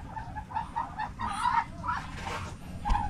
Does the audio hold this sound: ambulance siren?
no